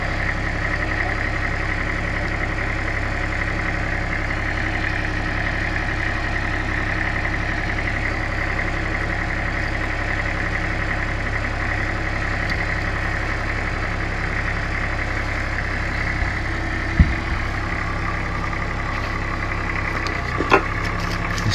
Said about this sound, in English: Swinging it over to put the bucket down so it raises that track up off the ground